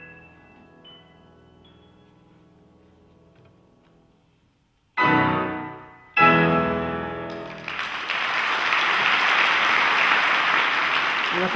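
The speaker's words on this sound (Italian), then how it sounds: "Una cosa che amiamo moltissimo è il suono dell'applauso, lo scroscio dell'applauso." Applause from a concert audience after a piano duo's classical performance. It follows a fading piano note and a pause, then comes on loud as a full, steady clapping roar that swells and holds to the end, with no voices.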